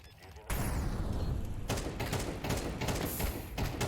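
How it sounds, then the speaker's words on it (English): Gunfire from a player running and shooting in Counter-Strike 2 on the Ancient map: rapid, loud bursts and repeated close shots with thuds across several seconds, over a steady game-sound background. "here you're definitely running and shooting"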